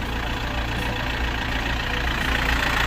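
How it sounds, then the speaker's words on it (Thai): A Yanmar TF453T tractor's mechanical engine idles steadily, a loud close low rumble with even throbbing and no voices. "เครื่องยนต์กลไกครับ"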